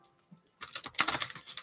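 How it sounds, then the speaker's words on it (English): Tarot cards being shuffled by hand, a quiet pause followed by a burst of rapid papery riffling and slapping close by, with no talking. "that's enough shuffling."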